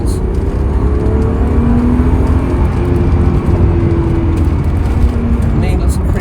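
A BMW E36 with a coolant leak accelerates hard on a road, its engine giving a loud, steady drone and rising pitch from inside the cabin, with a person talking over it.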